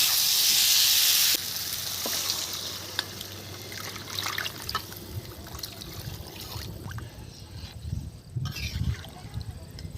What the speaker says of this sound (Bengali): তো এই সময় আমি জল ঢেলে দেবো।